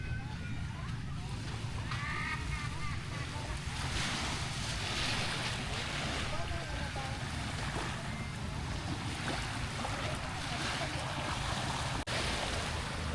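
Ocean waves washing onto a beach at high tide at a resort in Davao, a steady broad surf roar with wind buffeting the microphone and occasional voices underneath.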